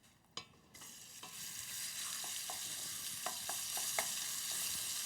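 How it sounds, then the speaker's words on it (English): Lamb stew meat seasoned with salt and pepper browns in a hot pan, a loud, steady sizzle that builds and holds, punctuated by a few sharp scrapes and taps as the pieces are turned. "we're going to begin by browning this."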